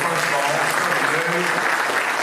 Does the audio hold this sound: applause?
yes